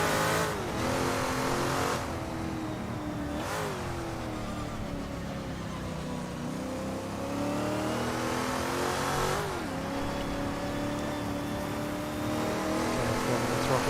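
Race car engine in the Assetto Corsa video game at a virtual Goodwood Revival among GT40s and a T70, revving and climbing through gear changes, loud and continuous with brief shifts between rising pitch sweeps.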